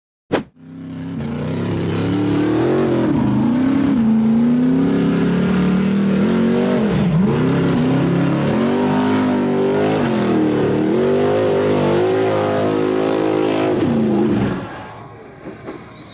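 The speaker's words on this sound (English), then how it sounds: "The buggy with a white frame aggressively powered up the near vertical sand dune, kicking up a massive cloud of dust behind it." A white-framed off-road buggy claws up a near-vertical sand dune, its engine roaring loud and sustained at high revs with wavering pitch for about fourteen seconds, then cutting off abruptly.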